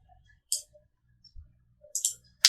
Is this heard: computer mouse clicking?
yes